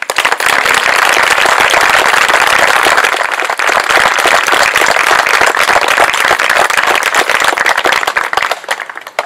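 Loud, dense applause from an outdoor audience at a park opening ceremony, many hands clapping in a sustained crackling roar that fades out at the end, with no talking.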